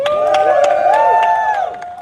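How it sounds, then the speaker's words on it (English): Crowd at a trans remembrance rally cheering and whooping with scattered claps, loud and close, sustained for a couple of seconds with voices rising over the noise. "Clap it up one more time."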